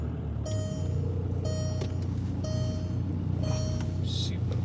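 A parked car idles at a hot rod show in Pigeon Forge in the Smoky Mountains of Tennessee, giving a steady low engine rumble with a few thin, intermittent beeping tones over it.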